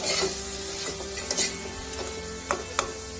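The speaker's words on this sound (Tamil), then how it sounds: "தக்காளி வெங்காயம்லாம் நல்லா சுருள வதக்கினதுக்கப்புறம் நம்ம இந்த சிக்கனையும் ஆட் பண்ணி அதையும் சேர்த்து நல்லா வதக்கலாம்" Chicken pieces sauté with onion and tomato in a pot for biryani, a soft sizzle under light scraping and clinks of a stirring spoon at irregular moments, with a faint steady hum behind.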